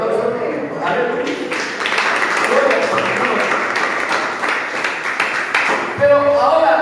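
A church congregation claps and applauds for several seconds during a Spanish-language service led by a pastor from Guayaquil, Ecuador. A dense, steady wash of clapping fills the middle, with a voice speaking before and after it.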